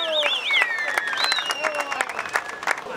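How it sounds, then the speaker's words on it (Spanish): A crowd applauds at the finish of a road cycling stage, with scattered claps under whistling tones and an announcer's voice close by. "¡El aplauso de Corabaño!"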